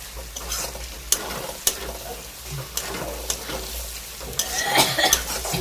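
Prawns sautéing in a pan while being stirred, a steady close sizzle broken by sharp scraping clicks of the spoon against the metal, with a low hum underneath.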